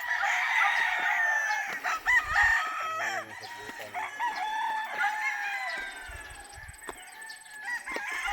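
A rooster crows several times nearby, with clucking and other farmyard birds around it and faint voices in the background.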